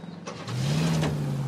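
A car in the video game LA Noire starting up and idling, a steady mid-range engine hum rising after a brief thump and holding close and even.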